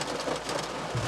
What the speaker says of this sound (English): it's raining exactly like it was 24 hours ago.